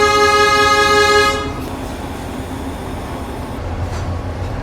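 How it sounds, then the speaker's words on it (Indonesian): A BB 303 locomotive hauling the Lembah Anai train sounds a loud, steady horn blast for about a second, then gives way to the continuous rumble of the passing train. "Kereta api Lembah Anai, nah ini dia, pakai lokomotif BB 303 ya."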